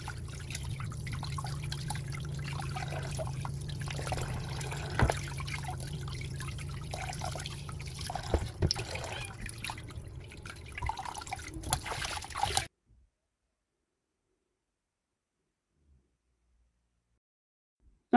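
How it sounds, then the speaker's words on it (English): Water trickles and pours steadily over fish being rinsed with water and lemon in a kitchen, a continuous close dribble with small splashes for about twelve seconds, then silence. "I'll just gently rinse this."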